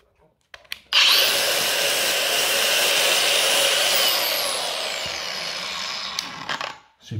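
Milwaukee M18 Fuel cordless angle grinder switched on and running steadily at full speed for several seconds with a loud high whine, then winding down and stopping near the end, close up.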